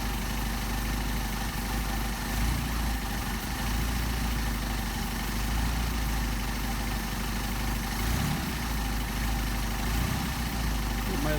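A Mercedes 190SL engine with Solex carburettors idles steadily nearby, a continuous low rumble throughout with faint voices in the background.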